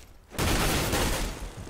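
A sudden burst of gunfire erupts in Counter-Strike on the de_dust2 map, a dense rattling volley of shots that begins abruptly after a quiet moment and holds loud for over a second.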